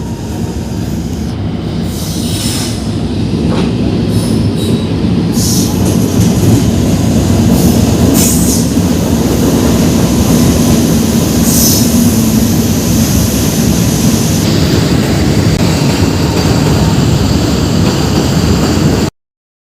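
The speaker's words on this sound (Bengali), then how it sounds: "এই মালগাড়িতে আসছে দানকুনির দিক থেকে এদিক দিয়ে চলে যাবে" A long freight train rumbles steadily past nearby at Bankranayabaz station, loud and continuous, with rattling wagons and occasional metallic squeals throughout.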